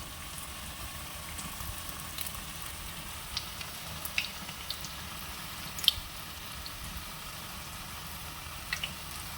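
Bread chilli frying in a pan as it is tossed, a steady soft sizzle with scattered small pops and clicks, fairly quiet and without talk.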